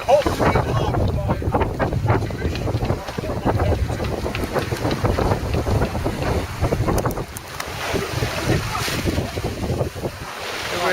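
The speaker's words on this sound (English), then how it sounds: "Winds up to 26 knots." Strong wind of up to 26 knots buffets a sailing yacht at sea between Falmouth and Portsmouth, a loud continuous roar of wind noise over rushing waves and hull splashes, steady for the whole stretch.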